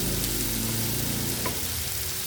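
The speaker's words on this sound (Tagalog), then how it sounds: "Ganito lang ako magluto guys ng ampalaya at saka pusit" Squid and bitter melon frying in a pan, with a loud, dense sizzle running steadily close by.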